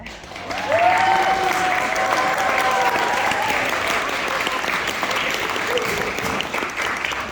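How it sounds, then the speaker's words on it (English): Wedding guests applaud the happy couple, a continuous wash of clapping at steady volume, with voices calling or cheering over it early on before the applause carries on alone. "let's all have another round of applause for the happy couple"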